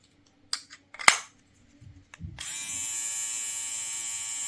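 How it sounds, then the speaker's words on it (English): A KENSEN S38 electric body groomer's nose trimmer attachment clicks and taps, then switches on into a steady high-pitched electric buzz that runs on evenly and close up. "Does what any nose trimmer attachment should do."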